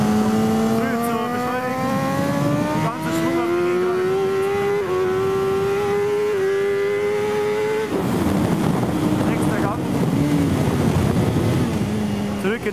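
Superbike racing motorcycle at Circuit Zolder, engine note climbing steadily through rising revs with quick upshifts, then a sharp drop as the throttle closes, loud and close for the whole stretch.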